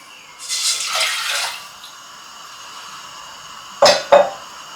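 Water splashes and pours into a pan for tomato chilli jam in two short bursts, followed by a quieter pause and then two sharp clinks or splashes near the end.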